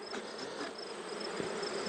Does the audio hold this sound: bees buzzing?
yes